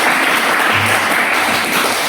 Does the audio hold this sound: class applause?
yes